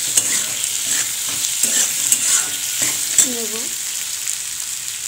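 Spices, salt, cumin powder and sugar stirred into a pan and lightly sautéed, giving a steady sizzle with scraping stirs and a few clinks; a brief voice is heard at the start.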